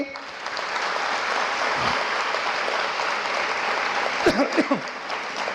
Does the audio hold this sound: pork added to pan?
no